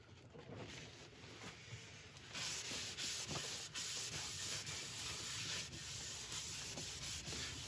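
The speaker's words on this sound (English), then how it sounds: "polish the surface, or abrade the surface, sorry, with some with some Yorkshire grit" Yorkshire Grit abrasive paste rubbed against a spinning horse chestnut woodturning on the lathe, a continuous close hissing, scratchy sanding sound that grows louder partway through, with faint rhythmic pulses from the rotation.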